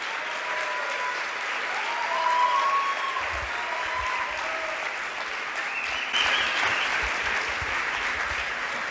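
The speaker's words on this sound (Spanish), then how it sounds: "Un fuerte aplauso para Miklos Lukács." A conference audience in Monterrey applauds the speaker Miklos Lukács, steady dense clapping that lasts several seconds and swells in places, with faint voices mixed in.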